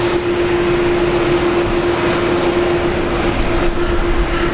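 A Qantas jet airliner taxiing across the field at Brisbane Airport gives a loud, steady engine roar with a constant tonal whine that runs unbroken the whole time.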